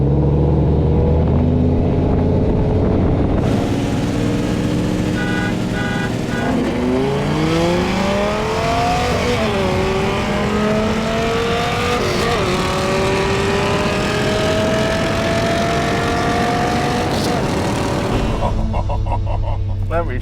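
A Dodge Viper and a Ford GT350 with its high-revving dual overhead cam flat-plane-crank engine, pulling hard on the road; a loud close engine note climbs steadily through long revving sweeps, then cuts off sharply near the end.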